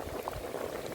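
A pot of cowfoot with rice and gungo peas bubbles steadily, a dense, continuous simmering burble that stays close and moderately loud for the whole second, with no voices.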